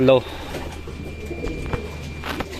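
Racing pigeons return to a loft in Cabuyao, Laguna, where a brief, close pigeon coo opens the moment before someone talks over quieter background bustle.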